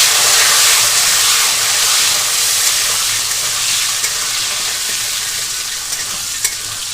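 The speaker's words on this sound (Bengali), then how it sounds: "আলুগুলো এখানে হালকা লালচে করে আমি ভেজে নিয়েছি।" Diced potatoes fry in a pan with a loud, continuous hissing sizzle that eases slightly over time, broken by a few light clicks of stirring.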